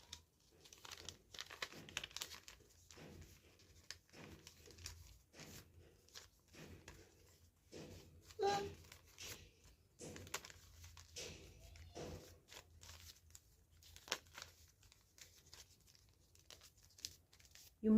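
Sheet of paper being folded and creased into a paper boat, soft intermittent crinkles and rustles close by, fairly quiet, with a few sharper creases and faint talk.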